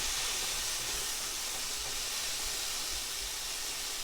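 A steak heating through in a pan for fajitas gives off a steady, broad hiss of sizzling that runs unbroken and fairly loud from start to finish, with no voices over it.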